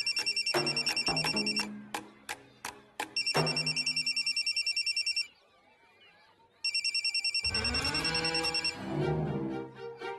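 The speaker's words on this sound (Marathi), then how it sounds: "शोभा, माया मॅडमचा फोन आहे." A telephone rings indoors in a home scene from a Marathi TV serial. Bursts of bright, repeated rings break off into a short silence, then resume, followed by a low rumble.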